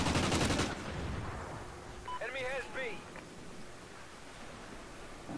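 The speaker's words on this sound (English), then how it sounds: "the teammates keep firing right next to me" Close, loud bursts of automatic gunfire from teammates in the video game Call of Duty Ghosts, a dense rapid volley opening the moment, then fading into scattered shots and game noise with a brief electronic chirp and talk over it.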